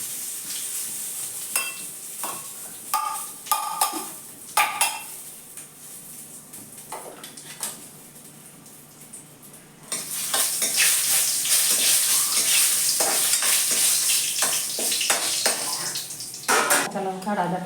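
Whole cumin, dried red chilli and bay leaves hitting hot oil in a pan, frying for an Ilish fish head and taro greens dish, with a steady close sizzle that jumps louder and fuller partway through, plus occasional stirring clinks.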